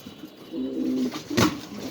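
Soft, low cooing from large, long-bodied high-flying pigeons, a short throaty murmur followed by a brief louder flutter, close by with no talking.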